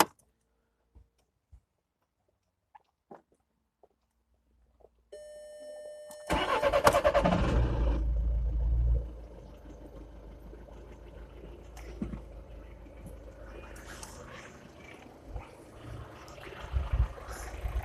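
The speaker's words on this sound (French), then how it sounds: "Et on démarre le moteur." An Audi TDI diesel engine cranks and fires after a few faint clicks, a loud burst of starter and engine roar settling into a steady diesel idle, close by in a quiet setting.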